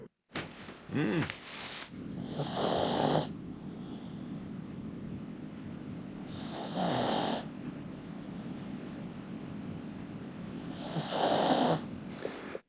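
Steady snoring from a sleeping person indoors, loud and close, with three long rasping breaths at an even, slow rhythm and no talk over it.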